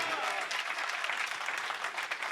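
A church congregation breaks into steady, dense applause during a worship service, many hands clapping together at close range with no voices rising above it.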